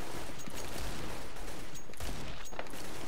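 Counter-Strike: Global Offensive gunfire on the Cache map: a dense burst of rapid shots with sharp transients around half a second, two and two and a half seconds, fairly continuous and mid-distance, with no talk over it.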